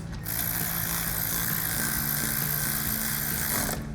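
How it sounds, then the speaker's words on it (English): A ratchet tightens a 10mm brake line bolt on a 2016-2024 Camaro during a coil-over install, its rapid mechanical clicking running continuously and loud over a steady background hum. "Grab our ratchet and tighten that down."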